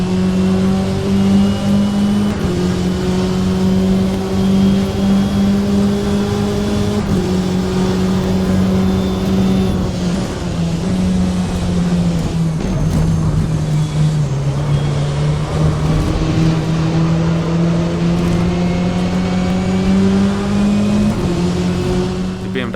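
A grid of GT race cars in rFactor 2, with one loud engine droning close by that holds steady and shifts pitch through gear changes, up and down across the lap. Other cars blend into a continuous roar with no talk.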